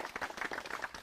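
A short burst of clapping from an audience applauding women at a farmers' forum, faint and scattered over about a second.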